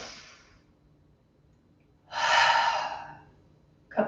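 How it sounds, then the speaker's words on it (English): Breathing exercise during a yin yoga class: a fading exhale at the start, then after a quiet gap a deep, airy breath swells loudly and tapers off, followed by the start of another breath. "inhale deeply through the nose and exhale out the mouth"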